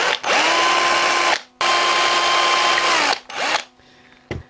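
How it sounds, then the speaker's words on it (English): A power drill whines in two long bursts, then a short third, winding down between each, drilling out the tip of a squid jig; loud and close, no talking. "First thing is we need to drill the tip out."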